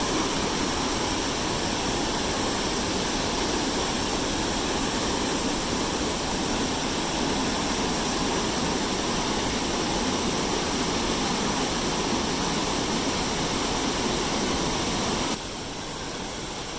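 Steady roaring rush of Kentucky Falls near Mapleton, Oregon, loud and constant throughout, with no voices, easing slightly in the final second.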